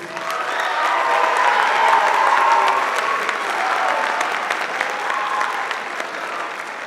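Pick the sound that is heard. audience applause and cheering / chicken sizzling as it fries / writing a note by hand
audience applause and cheering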